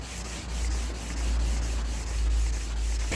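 Hand sanding with 600 grit sandpaper on an old Record vice gives a steady, close rubbing with faint rhythmic strokes over a low background hum.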